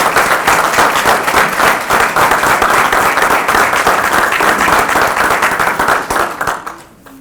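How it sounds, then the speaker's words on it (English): Winners of a canine naming contest at a sheriff's award ceremony receive loud, dense applause from an indoor crowd, a steady roar of clapping that fades out near the end. "if I could have a round of applause for the Canine Naming Contest"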